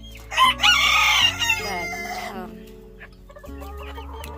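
A Cochin rooster crows loudly and close, followed by a few softer clucks and a brief spoken word.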